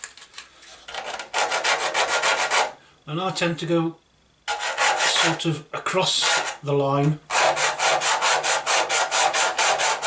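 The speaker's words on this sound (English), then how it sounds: "sandpaper that I wrap round" Sandpaper of 320 grit wrapped round a dowel rasps over a plastic Tamiya Land Rover Defender 90 model body in fast, close back-and-forth strokes. The sanding stops twice while someone speaks briefly, then starts again.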